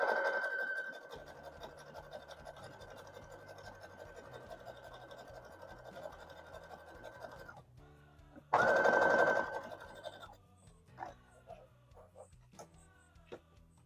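A sewing machine runs a zigzag stitch to attach elastic to dress fabric: a long, steady mechanical whir for several seconds, a pause, then a shorter, louder burst of stitching, followed by quiet handling noises.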